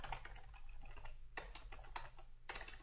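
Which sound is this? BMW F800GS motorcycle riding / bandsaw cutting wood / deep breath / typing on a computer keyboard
typing on a computer keyboard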